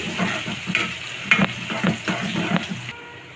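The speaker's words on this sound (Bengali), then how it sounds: "রসুন আমি ডালের মধ্যে দিয়েছি পেঁয়াজও দিয়েছি এখন বাগারের জন্য দিচ্ছি" Onion and garlic sizzle in hot oil as a tempering for dal, with a spoon stirring and scraping through it in several close, uneven strokes over a steady frying hiss.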